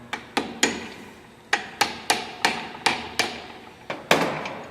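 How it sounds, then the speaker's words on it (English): Differential bearing caps are knocked into place on the housing with a run of about ten sharp, close metallic-wooden hammer blows in an uneven rhythm, each ringing briefly with no talk. "So I'm going to put these bearing caps on and tighten them down."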